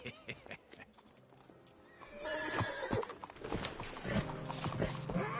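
A horse whinnies loudly in Red Dead Redemption 2, then hooves clop along alongside further neighing and snorting, with a busy game soundscape filling the background.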